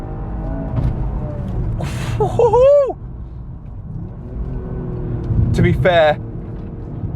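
A Toyota GR Yaris hums along with a steady engine and road rumble, and shifting engine tones swell twice with revving, while a person talks over it in places.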